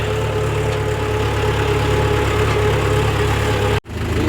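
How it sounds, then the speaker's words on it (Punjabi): A Mahindra tractor, parked in a field during wheat sowing, idles with a steady, loud, low mechanical drone and a constant hum. The sound cuts out for a split second near the end, then resumes. "ਰੇਡ ਤੇ ਖੜਾ ਹੈ ਟਰੈਕਟਰ"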